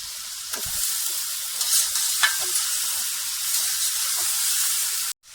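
Chicken fries in a pan with ginger-garlic paste, giving a continuous bright hiss of sizzling oil with occasional stirring knocks, ending abruptly in near silence; no speech.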